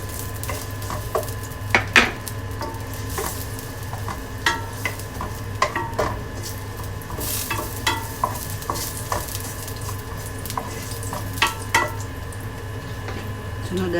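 Ginger fries in hot oil for a fish steak, sizzling steadily up close, while a utensil scrapes and knocks against the pan in irregular stirring strokes.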